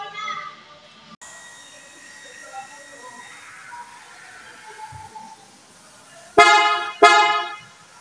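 Two short, loud honks from an aftermarket PIAA bass horn on a 2023/2024 Honda CR-V sound close by near the end, after a stretch of quiet hum and faint background noise.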